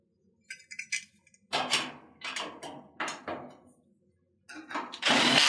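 Plastic and metal cover of an Amana washer being set back in place during a pump repair, a run of close, loud clunks, scrapes and rattles in uneven bursts with short pauses between.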